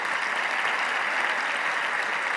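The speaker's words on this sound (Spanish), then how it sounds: "aquí tu público te va a aplaudir aunque no lo oigas como yo lo estoy oyendo" Studio audience at a talk show on democracy gives steady, dense applause, even and sustained throughout with no voices.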